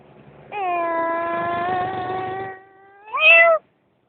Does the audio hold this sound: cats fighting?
yes